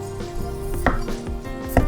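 A kitchen knife slices a bell pepper along its inner ribs on a cutting board, producing a few sharp, distinct knocks and cutting sounds close by, with no talking.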